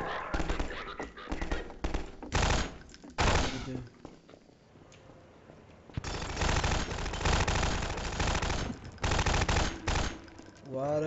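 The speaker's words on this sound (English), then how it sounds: "What are you shooting at?" Repeated bursts of automatic gunfire in the video game Half-Life 2, loud rattling volleys coming in clusters with short gaps, the firing dense and close, with voices speaking in between.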